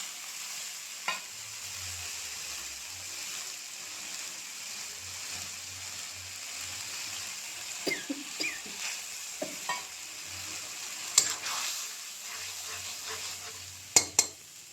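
Tomato paste frying in a pan, a faint steady sizzle with occasional stirring scrapes and soft utensil clinks against the pan, no voices.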